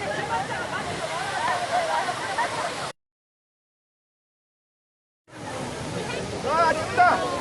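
A steady, rushing roar of water falling at Cheonjiyeon Waterfall fills the air, cutting out abruptly for a couple of seconds before returning, with voices faintly present.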